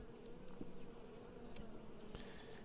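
Honeybees buzz around a nucleus hive during autumn work, a soft, continuous droning hum with a few louder passes of individual bees close by.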